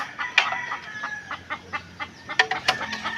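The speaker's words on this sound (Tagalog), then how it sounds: "Manok nakakolorop." A rooster crows in a few ragged, harmonic bursts, with short clucks scattered between them. It sounds fairly close against a quiet outdoor background.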